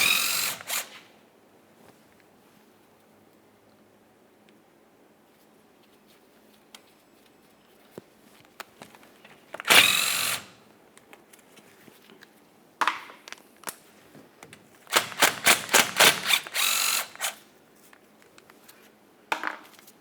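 Power tool loosening 13mm differential cover bolts on a 2004-2008 Ford F-150, several loud bursts of whirring and rattling impact separated by quiet pauses, with a rapid cluster of short bursts toward the end.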